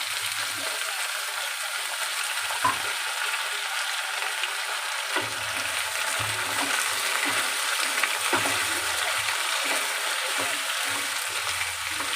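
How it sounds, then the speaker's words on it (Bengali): Ash gourd, snake gourd, eggplant and potato fry in a pan with a steady, close sizzle that runs the whole time, with soft stirring scrapes and utensil taps now and then. "সব সবজিগুলোকে প্রথমে একটু হালকা করে ভেজে নেব"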